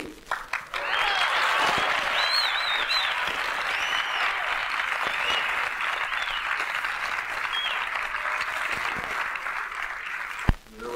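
A large crowd applauds and cheers at length, a broad, dense wash of clapping with shouts and whoops swelling after a brief start, staying loud and even before a sharp bump near the end.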